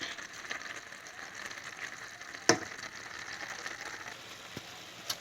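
Okra simmers down in a pot with gravy and chicken wings for gumbo, making a quiet, steady crackling sizzle with a few sharp pops and ticks scattered through it, faint and close, with no voices.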